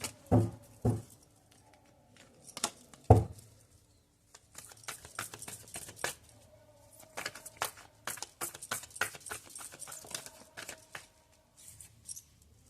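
Tarot cards being cleared and shuffled, giving a few sharp slaps at the start and then a long run of quick, dry riffling clicks and flutters, close and fairly quiet, with no voices.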